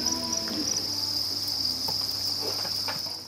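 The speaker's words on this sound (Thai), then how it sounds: "การเลี้ยงจิ้งหรีดสดิ้งนั้นไม่ยุ่งยาก" Crickets chirp at a cricket farm, a dense continuous high trill from many insects with a few faint knocks and rustles underneath, and no voices.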